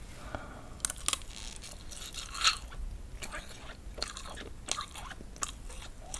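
Someone chews soft, spongy, syrup-soaked rasgulla up close, with scattered wet squelches, small squeaky bites and faint crunchy clicks at irregular intervals, fairly quiet overall.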